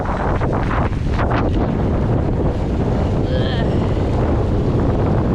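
Choppy water and gusting wind roar steadily around a person standing in the waves while metal detecting, a dense, continuous rush close to the microphone with brief brighter splashes.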